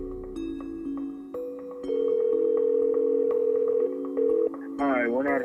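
Steady telephone ringback tones play during a call, sustained electronic tones that shift pitch in long even blocks, with a brief voice-like burst at the end.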